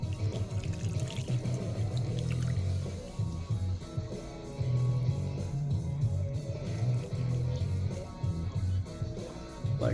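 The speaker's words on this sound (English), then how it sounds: "I'm going to use this cool bowl. I'm going to pour it in there." Chicken ramen noodle soup pours from a pot into a bowl, a steady close splashing and gurgling of liquid that runs on with brief pauses, with no talk.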